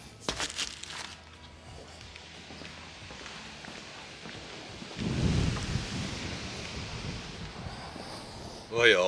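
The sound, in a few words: wind blowing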